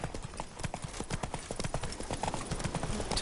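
Roach, Geralt's horse in The Witcher 3, galloping with a quick, rapid run of hoofbeats on the ground, close and steady, with faint background ambience.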